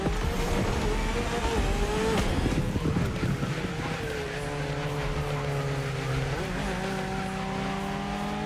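Race cars in the driving video game The Crew Motorfest, engines revving and roaring loudly with shifting pitch and brief tire squeal, a continuous close mix of motors under game music.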